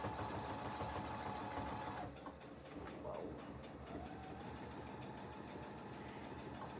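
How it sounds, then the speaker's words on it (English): A sewing machine stitches through a bulky seam of a kids' pillowcase, a fast steady mechanical whir that dips and strains briefly partway through, then keeps running close by without talk. "You're just going over your seam. So it's going to make a little noise because it's got a lot of bulk to go through."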